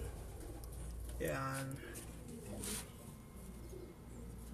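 A racing pigeon coos once, close and fairly clear, with a few soft bird sounds around it in a quiet loft. Someone speaks briefly.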